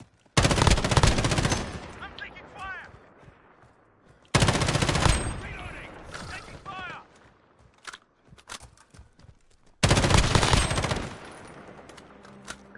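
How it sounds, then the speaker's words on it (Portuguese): Three loud bursts of automatic gunfire from a Call of Duty Modern Warfare match, each rapid volley lasting one to two seconds and then tailing off, with a short gap of near silence between volleys. "Tô com a arma automática aqui como secundária."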